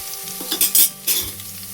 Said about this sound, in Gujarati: લસણનું પીળું થવા દેવાનું